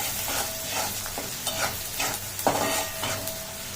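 Tiny shrimps seasoned with salt and turmeric sizzle in a pan while being stirred, a close, fairly quiet hiss broken by soft spoon scrapes and a few louder clatters.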